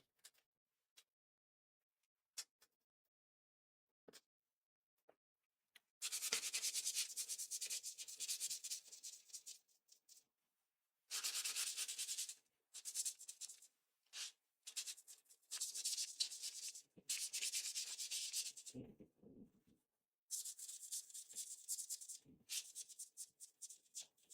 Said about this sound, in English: let's sand this just a little